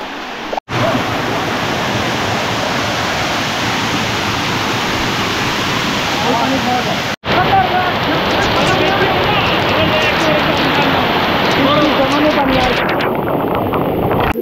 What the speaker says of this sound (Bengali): এইটাই হচ্ছে মেইন নাপিতছড়া ঝর্ণা